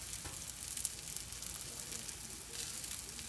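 Veggie fritters sizzle steadily in a pan over medium heat on a home stove, a dense, even crackle of oil with small pops, close and continuous without talk.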